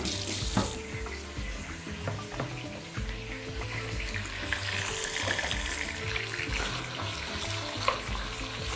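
About a kilogram of lamb pieces fry in a hot pan toward a golden colour, giving a close, continuous sizzling hiss with occasional pops and stirring clicks throughout.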